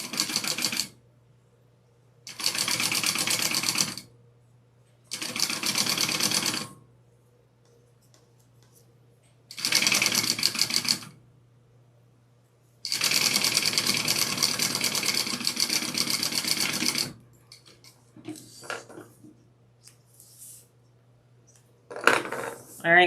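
Home sewing machine running in several bursts of a few seconds each, stitching a longer top-stitch through fabric for a Noelle cookie carrier, with a steady low motor hum between bursts and a few soft handling clicks near the end.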